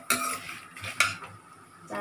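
Roasted chana dal being tossed and stirred in a pan for murmura chivda, with sharp metallic spoon scrapes and clinks against the pan, a few distinct strokes close up, no voice.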